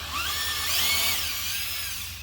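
A power drill runs into masonry, giving a loud, continuous whirring whine up close. The pitch sweeps upward and then eases back down over about two seconds, with no voices.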